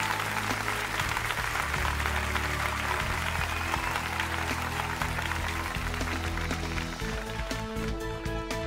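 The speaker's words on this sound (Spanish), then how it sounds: "Entonces un fuerte aplauso para despedirlos." A TV singing competition audience applauds steadily for nearly nine seconds, a dense, even wash of clapping with music tones running beneath it and no talk over it.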